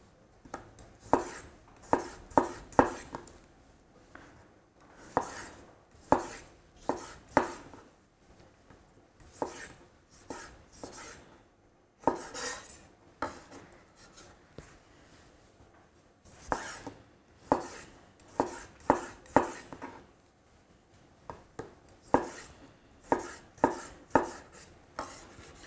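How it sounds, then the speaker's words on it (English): Sharp knife chopping food on a cutting board for hummus and Israeli salad, in quick bursts of crisp, close taps with short pauses between runs, no talking. "chopping the food with a sharp knife, you're not damaging it"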